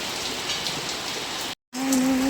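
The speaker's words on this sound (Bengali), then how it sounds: "প্রচণ্ড পরিমাণে বৃষ্টি শুরু" Heavy rain pours in a dense, loud, steady hiss that drops out briefly near the end and then resumes, with no one talking.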